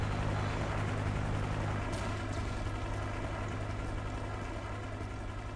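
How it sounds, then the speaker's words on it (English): A helicopter in Call of Duty: Modern Warfare 3 on Wii drones overhead, its steady rotor roar loud and continuous, with a few faint game effects over it. "Can't hear with that fucking helicopter."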